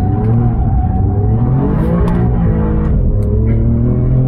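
A 2021 Alfa Romeo Giulia Quadrifoglio with a 600 Nm engine driving the rear wheels, accelerating hard with a loud, close, sustained roar and rising harmonic tones as it climbs through the revs.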